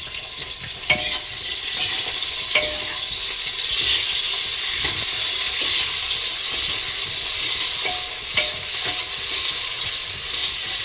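Green chillies and long-sliced onion frying in a pan for kushka rice, a steady loud sizzle with occasional scraping stirs and small pops, close and continuous with no talking.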